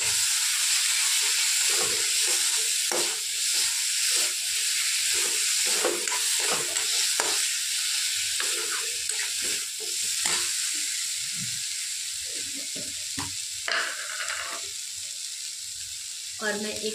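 Small chopped tomato pieces drop into a hot pan and sizzle and hiss loudly up close, with stirring clatter and scrapes breaking up the steady frying noise.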